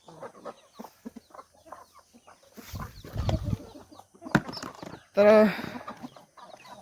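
Chickens feed on scattered grain, giving soft scattered clucks, pecking and rustling up close, followed by one loud, sharp squawk. A person speaks briefly.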